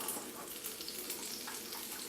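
Soft, steady sizzling of butter in a hot pan, faint and close, with no talking.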